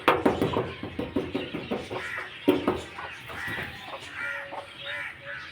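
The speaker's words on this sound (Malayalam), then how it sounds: "ഇതാണ് നമ്മുടെ കളർ കോഴി" A hen of a coloured chicken breed clucks in a quick series of sharp, repeated calls, then quieter softer clucks and faint chirps from her chicks follow nearby.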